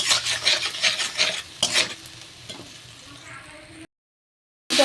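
Spices with sugar, salt and turmeric are stir-fried in oil, with a rhythmic scraping of a spatula against the pan over a soft sizzle that fades before a short silence.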